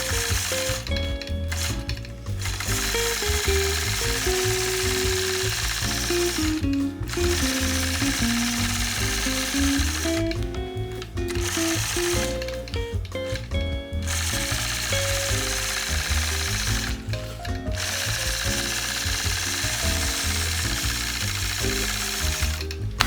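Quilting machine stitching straight evenly spaced lines along a ruler, giving a steady rapid mechanical clatter with a motor whine that shifts in pitch, stopping briefly several times before it resumes.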